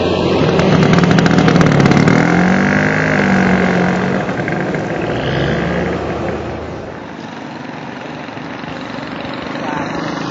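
A motorcycle engine drones loud and steady while being ridden through Vietnam, its mid-pitched buzz filling the whole stretch and easing slightly partway through, with some talk mixed into the roar.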